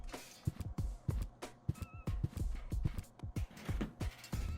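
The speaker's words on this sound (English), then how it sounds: "A cat in a hamster wheel." A cat running in a hamster wheel in the adventure game Deponia, a steady rhythmic patter of soft thumps and clicks, close and fairly quiet, with a faint brief squeak partway through.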